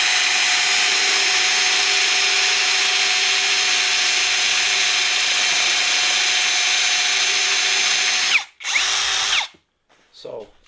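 An Excited Work 21 V rotary hammer drill runs continuously with a loud, steady high whine for about eight seconds, then stops, briefly revs once more and cuts out.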